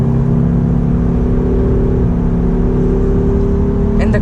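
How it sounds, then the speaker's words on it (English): Steady low engine drone from a Lexus IS350 F-Sport under acceleration, a continuous rumbling hum heard from the cabin, loud and even throughout with a faint click near the end. "the sound and the revs it pulls are so good"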